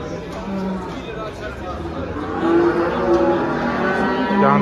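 Cattle moo at a busy livestock market, among them a Pacific breeding bull, with long lowing calls rising over crowd chatter and someone speaking nearby.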